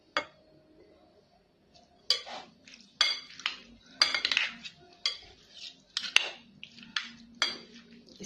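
A spoon stirs beaten yogurt into chana chaat in a bowl, giving close, irregular clinks and scrapes against the dish after a quiet start.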